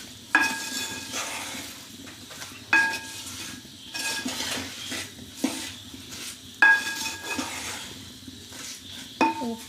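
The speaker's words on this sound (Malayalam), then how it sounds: "ഇങ്ങനെ നന്നായിട്ട് മിക്സ് ചെയ്യണം. കുറച്ച് ഉലുവ പൊടിച്ച് വെച്ചിട്ടുണ്ട്, അത് ഇതിലേക്ക് ഇട്ട് കൊടുക്കുന്നു." A spice mixture with ground fenugreek is stirred in a pan, a spoon scraping and clinking against the metal in a rough rhythm over a faint sizzle, fairly quiet and without voices.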